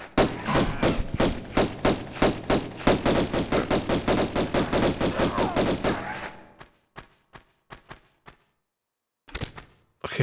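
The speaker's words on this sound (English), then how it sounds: "who's going to test the receiving end of the bullets from the shotgun" Shotgun fire in Tomb Raider Remastered, a rapid run of loud, evenly spaced blasts for about six seconds, followed by a few scattered thuds and shots separated by near silence.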